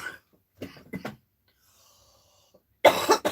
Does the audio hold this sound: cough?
yes